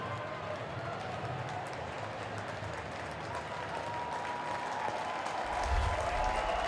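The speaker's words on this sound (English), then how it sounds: "It was a big cheer." Crowd roar rises at a Super Rugby Pacific match between the Hurricanes and the Blues, a broad steady wash of cheering and applause that swells louder near the end, with commentary running over it.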